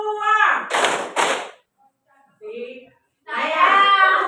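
A classroom of students claps together in unison, giving two sharp group claps close together, with short stretches of talk around them.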